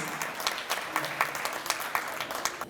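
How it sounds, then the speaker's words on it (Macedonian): An audience at a Macedonian literature and culture evening in Toronto applauds, a steady patter of many hands clapping close by that runs for the whole moment. "Да ги поздравиме со аплауз."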